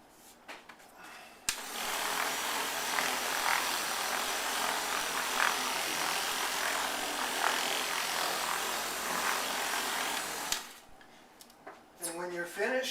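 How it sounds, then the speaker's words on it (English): A power buffer spins a microfiber towel across a sealed granite countertop, making a steady, close, broadband whirring rub that holds for about nine seconds before cutting off abruptly, with a short burst of speech afterward. "Turn on your buffer and just let it spin."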